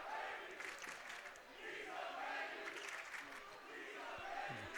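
Student crowd at a high school basketball game between Jasper and Forest Park chanting in a gym, a dense, steady roar of many voices that swells and dips across the stretch, heard at a distance.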